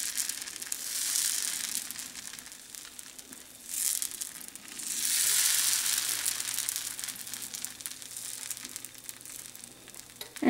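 Moong dosa batter of whole green gram sizzles and crackles on a hot tawa, a steady frying hiss that swells in bursts as the batter is spread, with no voices.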